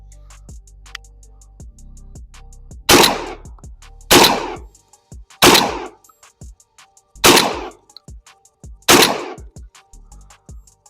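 A Panzer M4 12-gauge shotgun fires slugs at range targets about 20 to 25 yards away: five loud, sharp blasts, each spaced roughly a second or more apart, with quiet stretches between them.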